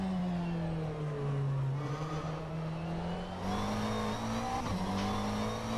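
McLaren GT3 race car engine in the rFactor 2 racing game, a loud steady high-revving drone that climbs slightly, with a brief gear-shift jolt partway through, no voices.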